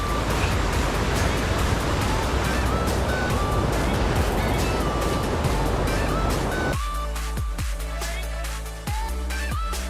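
Cold Himalayan river water in Nepal rushes in a loud, continuous broadband roar, close to the microphone, with a sudden shift partway through to a more muffled, underwater-like sound with clicks.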